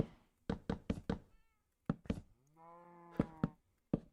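A house cat makes a series of short chattering clicks and knocks, interrupted by two brief tonal meows, close and fairly quiet.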